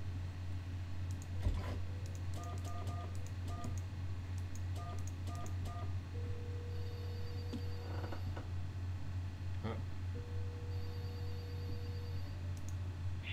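Retro phone being dialed in the video game There Is No Game: a run of short, evenly spaced tones and clicks in small bursts, followed by longer steady ringing tones, over a constant low hum.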